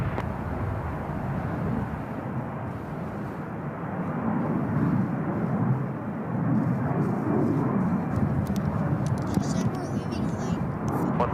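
A jet takes off from runway 28 left at San Francisco International Airport, a steady loud engine roar rising slightly, with radio chatter and voices heard over it.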